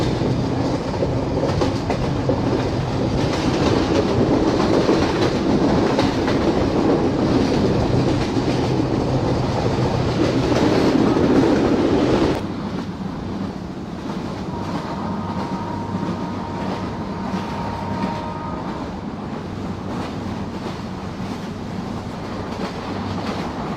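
The Rupsha Express passenger train runs on its rails with a loud, continuous rumble and wheel clatter. Partway through, the noise drops to a quieter rolling drone with a faint steady whine, and no one speaks.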